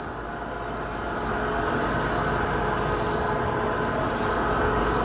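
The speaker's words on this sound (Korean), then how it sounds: "지금 이렇게 알람 소리가 들리시나요?" A series of short high-pitched electronic beeps in repeating pairs from a combi oven's cooking-complete alarm rings out over a steady, loud hum of running machinery.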